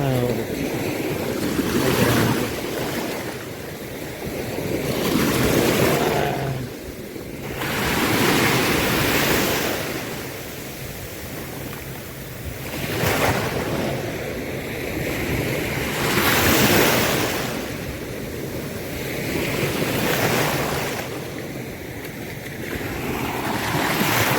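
Heavy ocean waves surge and crash at a beach in Ternate, Cavite, in a slow repeating rhythm, loud and close, with wind buffeting the microphone throughout.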